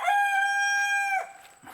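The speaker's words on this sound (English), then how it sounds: "Chickens gotta get involved." A rooster crows once, a loud, close, drawn-out cock-a-doodle-doo lasting over a second, then trails off into a brief softer call with no talking.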